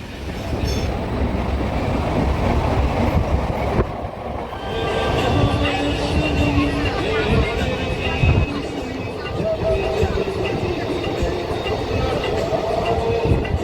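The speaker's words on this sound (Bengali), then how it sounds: "হাওড়া স্টেশন থেকে বর্ধমানের মানকরের টিকিট কেটে এক্সপ্রেস ট্রেনে উঠে পড়লাম।" An express train from Howrah station toward Mankar in Bardhaman rolls along, heard from inside as a loud continuous rumble and rattle of the carriage with a faint wheel clatter, and murmured voices in the background.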